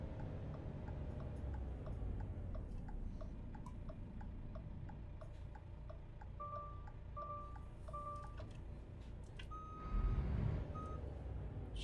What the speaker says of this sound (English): I like blind spot monitoring, I just don't like the sound of it.